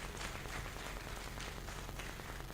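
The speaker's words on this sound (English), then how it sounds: "a round of applause." An audience at a university gathering claps for a professor, a steady dense patter of applause at moderate, somewhat distant level, continuous without a break.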